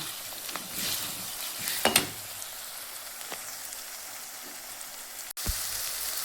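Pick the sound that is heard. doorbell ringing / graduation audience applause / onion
onion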